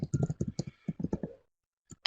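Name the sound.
computer keyboard typing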